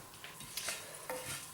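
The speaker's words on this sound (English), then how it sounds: "So once they're sizzling away, you're going to move them around" Whole spices for a lamb curry sizzle quietly in hot oil while a utensil stirs them around the pan, giving soft, intermittent scraping strokes over a faint steady fizz.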